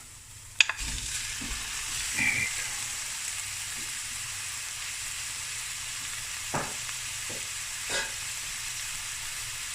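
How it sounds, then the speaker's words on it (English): Mutton braising in a pot with onions, garlic and salt and no added water, giving a constant soft sizzle and hiss with a few sharp clinks and scrapes of stirring near the start and later on. "I'm not going to add any water while the mutton is braising with the onions and some garlic and salt"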